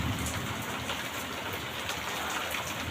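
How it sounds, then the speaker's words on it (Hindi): Rain falls steadily in a continuous, fairly faint hiss of drops on surfaces, with no voices. "बारिश बहुत हो रही है, बादल भी गरज रहे हैं।"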